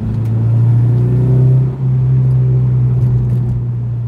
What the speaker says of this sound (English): You guys will be able to hear VTEC live. How's the exhaust sound right now?